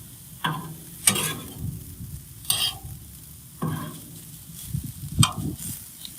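Half-frozen cheesesteak meat sizzles on a Blackstone griddle, with several loud scraping and stirring bursts from the spatula over a steady frying hiss.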